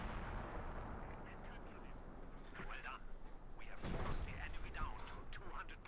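Artillery barrage in the war strategy game Company of Heroes 2, with shell bursts and booming impacts rumbling on and off across the stretch, heaviest near the end, under someone commentator's voice.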